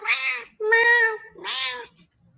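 Three drawn-out, plaintive cat meows in a row, each rising and falling, loud and close, with short pauses between them, heard alone as part of a played video clip.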